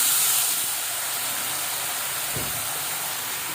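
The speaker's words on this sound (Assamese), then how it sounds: "আৰু এতিয়া আমি এইখিনি ধুনীয়াকৈ ভাজিম।" Ginger-garlic paste fries in a pan with a steady, even hiss of sizzling oil that holds at a constant level throughout, with no talking.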